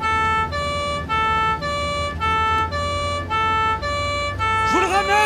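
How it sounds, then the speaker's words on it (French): A stuck siren on a vehicle wails in steady repeating two-tone cycles, loud and close, and a sharp rising squeal comes in near the end. "C'est parce que la sirène est coincée !"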